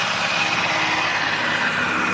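A small engine-driven pump drains water out of a pond, its motor droning steadily and fairly loud at close range, with no talking over it.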